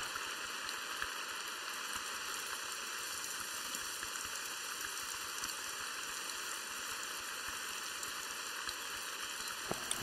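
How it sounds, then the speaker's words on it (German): Steady rain falls continuously in The Hunter: Call of the Wild game, a dense even hiss that fills the scene with no talking over it. "Oh, der Regen nervt."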